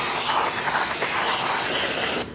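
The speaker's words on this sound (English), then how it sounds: "You can spray down your drum as well." Spray cleaner hisses in one continuous close, loud burst onto a brake drum of a 2004-2012 Chevrolet Colorado, cutting off abruptly at the end.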